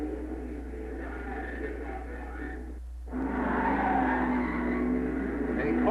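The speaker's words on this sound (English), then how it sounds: "A Corvette jumps away from the supercharged Thunderbird" A Corvette launches against a supercharged Thunderbird at a 1956 NHRA national championship drag race in Kansas City: a steady, loud engine roar that breaks off briefly, then returns even louder and rougher as the cars pull away.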